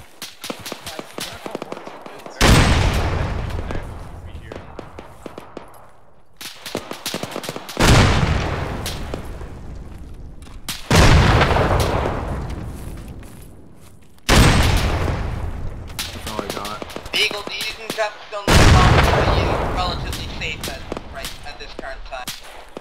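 Mortar and artillery fire in Arma, five heavy booming impacts spaced a few seconds apart, each with a long rumbling decay, with radio chatter and smaller gunfire in between.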